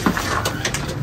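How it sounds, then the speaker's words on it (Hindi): A large racer pigeon coos close by, a short throaty burble over a busy background, loud and near. "बड़े बड़े कबूतर रखे हैं भाई"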